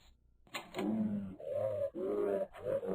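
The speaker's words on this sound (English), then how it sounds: "I recorded his roars and played them back at high speed." Short creature roars played back at high speed, giving two or three quick, squeaky, chirping roar bursts, close and fairly faint.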